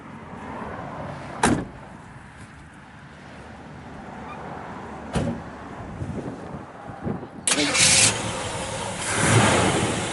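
A 1968 Chevrolet Camaro with a 350 V8 and 350 Turbo transmission: a few sharp door-like thumps, then the engine cranks and fires, settling into a loud, close idle.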